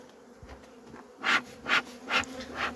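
Honeybees buzz around an opened hive in March while a beekeeper works with smoke, the close hum rising and falling in several loud swells as bees pass near.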